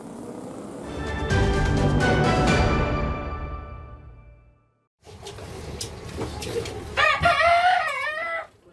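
Live chickens being shipped illegally to Jayapura, Papua, with a rooster crowing loudly and repeatedly among clucking fowl, a short pause, then more crowing and bird calls nearby.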